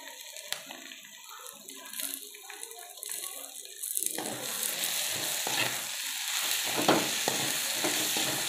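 Tomatoes sautéing in a pan for a potato masala side dish, a soft steady sizzle with stirring scrapes that swells louder and denser halfway through, close and continuous with no voices.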